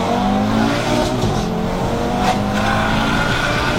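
A turbocharged 800-horsepower Audi TT RS engine roars hard under acceleration in second gear, a dense, continuous mechanical drone with a whooshing intake character, loud and close throughout.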